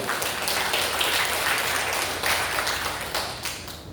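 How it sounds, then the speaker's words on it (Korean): Congregation applause at the opening worship service of a summer mountain revival meeting, a dense, steady wash of many hands clapping that fills the space evenly and trails off slightly near the end. "하나님께 영광의 박수 올려드립시다."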